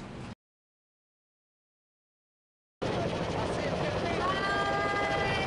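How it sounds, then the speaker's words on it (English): A helicopter lifts off at an airport, its rotor wash throwing flyers, money and a tent into the air; a loud, steady rotor roar fills the last seconds after a stretch of silence, with a brief burst at the start. "As this chopper took flight, winds from the rotor blade sent flyers and money sky high"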